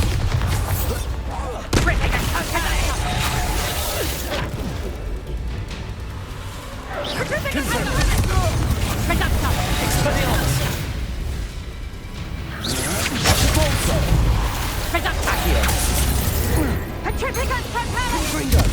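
Explosive spell blasts and magical whooshes from the video game Hogwarts Legacy during a duel, with bursts of booms and crashes layered over continuous loud combat music and voices speaking throughout.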